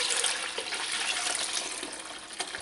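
Homemade ricotta curds and whey poured through a strainer into a bowl: a steady, rushing trickle of liquid, close and continuous, with faint splashes.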